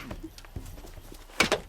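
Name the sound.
horse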